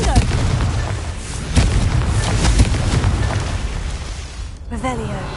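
Fiery Confringo spell blasts from the Hogwarts Legacy video game, a run of loud booming explosions with rumbling bursts throughout, ending in a sharp crackle, with voices heard alongside.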